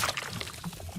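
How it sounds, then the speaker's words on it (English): A swirling rush of water from a spinning water vortex in a Mortal Kombat 1 fatality, a brief, close watery pour and whoosh lasting about a second. "Rain conjures a column of water, then spins his staff to turn it into a vortex."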